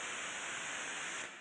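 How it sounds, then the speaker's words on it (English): Harsh, steady white noise standing in for the Big Bang, a dense chaotic hiss with a faint ringing tone on top, loud and unbroken before tapering slightly at the end, with no voices. "It's white noise. It's such a chaotic ringing."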